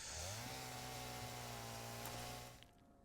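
Chainsaw cutting down plants in the video game Satisfactory, a steady buzzing whine that shifts pitch slightly as it bites, then cuts off and fades near the end.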